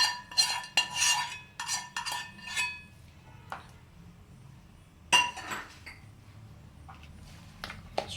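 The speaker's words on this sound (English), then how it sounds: "I am adding all the masalas to my mashed potatoes." A spoon clinks sharply against a metal bowl as masala spices are added to boiled, mashed potatoes for aloo samosa filling: a quick run of bright taps, a quiet pause, then a few more scattered clinks.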